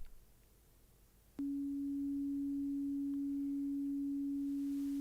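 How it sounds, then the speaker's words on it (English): Crude sine wave from a Wonkystuff modular synth, a single pure steady tone that switches on suddenly after a soft click and holds unchanged and alone over faint background hiss. "there's also a very crude sine wave"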